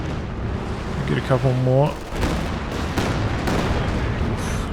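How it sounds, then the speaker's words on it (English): Katyusha rocket artillery barrage in Company of Heroes 2, a rapid rising whoosh of launching rockets followed by a run of rumbling explosions, loud, with someone briefly talking over it. "here comes the Katyusha into the south"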